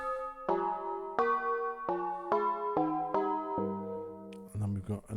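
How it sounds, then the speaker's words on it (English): Tubular bells from the Live Tubular Bells preset on a Medeli AKX10 keyboard ring out in a descending run of about eight struck notes, each sustaining with a metallic shimmer, followed by a brief softer tail. "Live Tubular Bells."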